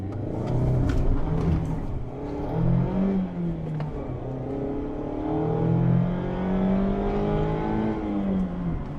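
A 2021 Mazda MX-5 Miata accelerating under power, its engine note climbing and falling in pitch through several pulls, moderately loud amid road rumble.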